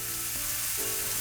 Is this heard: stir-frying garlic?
yes